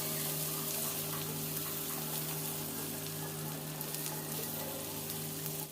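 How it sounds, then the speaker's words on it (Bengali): Chopped onion fries gently in oil, a soft, even sizzle that stays faint and continuous, with a low steady hum running underneath. "পেঁয়াজ কুচিটা হালকা একটু সফট করে ভেজে নেব"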